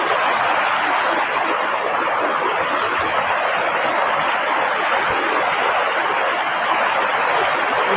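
Water runs from a hose in a loud, continuous, close rushing hiss that stays even from start to finish without pauses.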